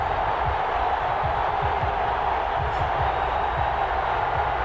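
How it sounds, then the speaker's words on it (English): A stadium crowd at an NFL game between the New Orleans Saints and the Las Vegas Raiders, a steady, loud roar of cheering with a broadcaster talking over it. "This crowd is ready as their guys get set to match up between the New Orleans Saints and the Las Vegas Raiders."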